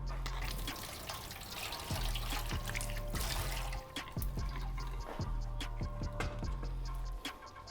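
Dried kelp gets rinsed under a running kitchen tap, with water splashing and trickling continuously over several seconds, punctuated by handling knocks and drips, close by.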